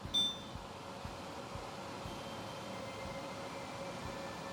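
A Winix air purifier fan runs at turbo speed, giving a steady, even broadband whoosh with a faint tonal hum and a brief beep at the start.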